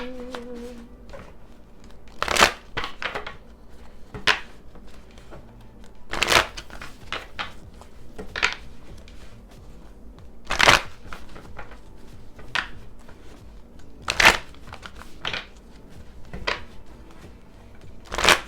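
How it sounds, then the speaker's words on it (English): Tarot cards being shuffled by hand, repeated sharp riffling bursts every few seconds with soft shuffling between, close and clear. "How many times did I just shuffle those cards?"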